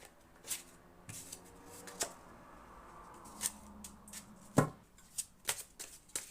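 Quiet, intermittent handling of cards: scattered soft snaps and taps at irregular intervals, close by, with no talking.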